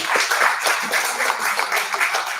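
Applause from an audience after a satire reading at a talk, many hands clapping in a lively, rippling rhythm, moderately close and sustained.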